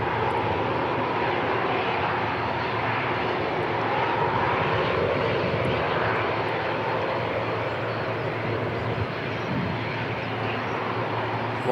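Airliner jet engines idle and rumble at Christchurch Airport in New Zealand, a steady, broad roar that holds even throughout with no voices.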